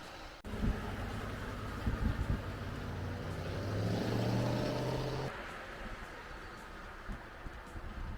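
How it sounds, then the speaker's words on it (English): A Jeep Gladiator truck engine runs steadily with a low rumble while turning around with a load of brush, swelling louder for a few seconds as it works, then settling back to a rougher idle. "I'm gonna go ahead and turn the truck around"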